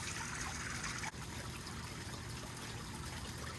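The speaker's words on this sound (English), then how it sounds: "right next to your fire pit cabana area is this beautiful water feature waterfall, right next to your hot tub" A backyard waterfall water feature beside a fire pit cabana and hot tub trickles and splashes steadily, a continuous close wash of falling water with no talk.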